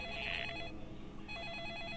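A telephone rings in the horror video game Deadly Premonition, a quiet electronic ring with repeated bursts over a low background hum, no voices.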